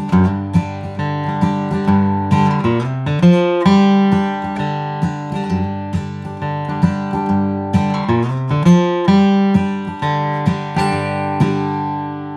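Acoustic guitar playing a lively bluegrass rhythm with a G run, alternating bass notes with strummed chords and quick runs, bright and close, with no voices.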